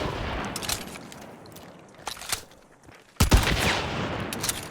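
Gunfire in the game Hunt: Showdown: a few sharp shotgun-style blasts, one around the middle and a louder burst later, over a steady background of game noise, with no talking.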